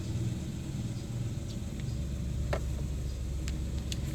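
The engine of a used 2015 car runs after starting, giving a steady low rumbling idle close by, with a few faint clicks and no talk.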